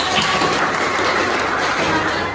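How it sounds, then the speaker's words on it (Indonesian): Applause for a student group in a classroom teacher-training session in Surabaya, steady and moderately loud, continuing evenly for the whole stretch without talk over it. "Ya, tepuk tangan untuk kelompok 4."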